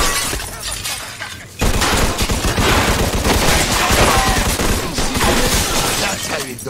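Heavy gunfire in a Mafia II shootout, dense rapid volleys of shots with glass shattering, loud and continuous after a brief lull.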